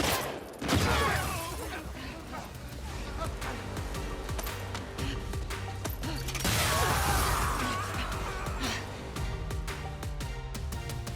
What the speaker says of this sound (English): Explosion of a fire extinguisher.